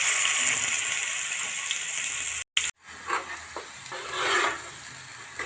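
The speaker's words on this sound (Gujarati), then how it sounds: "તો હવે આપણે ગ્રેવીને નાખી દઈશું." Tomato gravy poured into hot oil seasoned with asafoetida sizzles loudly and steadily, breaks off for a moment, then returns as softer bubbling with scraping stir strokes.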